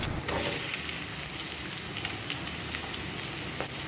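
Onions drop into hot mustard oil with potatoes in a wok and set off a sudden loud hissing sizzle that holds steady and close, with no talking.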